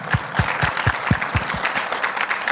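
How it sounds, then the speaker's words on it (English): Audience at a trade and investment conference applauding, with dense clapping over a regular low thumping beat, likely music, steady and close. "So let's give him a nice round of applause,"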